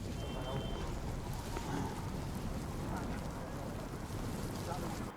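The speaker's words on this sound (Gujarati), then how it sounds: "મોડી રાતથી જ વરસાદ અવિરત અવિરતપણે વરસી રહ્યો છે" Steady heavy rain falls over a city street in Surat during a monsoon downpour, a dense constant hiss close to the microphone with some wind buffeting, continuous and unbroken.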